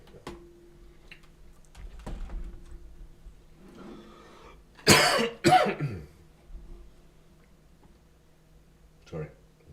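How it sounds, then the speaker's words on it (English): A person coughs in a short, loud burst of two or three harsh coughs near the microphone, with quieter room noise and faint background voices before and after. "Coughing a lot."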